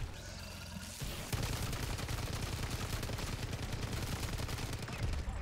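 Weapon fire in the MW3 Zombies video game, a dense, continuous burst of rapid gunshots after a brief lead-in, loud and sustained with no pauses.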